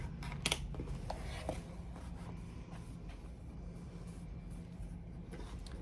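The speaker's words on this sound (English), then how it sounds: "I'll just snip that with my little scissors." A few quick, crisp snips of small scissors cutting paper near the start, then faint rustling and low background hum.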